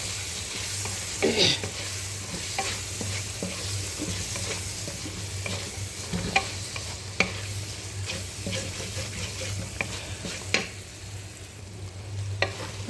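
Spice masala being stirred and fried in a pan: a steady close sizzle with repeated scraping strokes of a spoon against the pan, and a low hum running underneath throughout.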